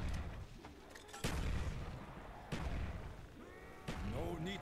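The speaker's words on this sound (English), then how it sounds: "We'll throw a bunch of grenades down there." Grenades thrown into a Call of Duty Zombies match on the Shangri La map go off in several heavy booms, each a sudden broadband burst with a rumbling tail, separated by quieter game ambience.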